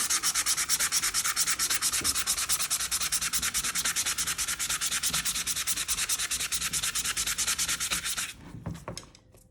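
Medium sandpaper rubbed by hand over a wooden rolling pin in an office, making a loud, close, rapid rhythmic scratching that keeps an even pace and then stops.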